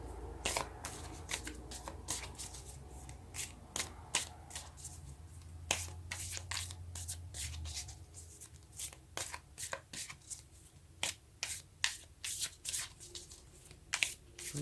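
Tarot cards being shuffled by hand, a long run of quick crisp riffling flicks and soft slaps, close and fairly quiet with short pauses between bursts.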